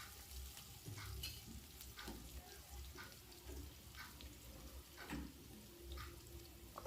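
Green chillies roast in a pan while making semolina dhokla, with soft sizzling and repeated scraping stirs at a steady, unhurried rhythm.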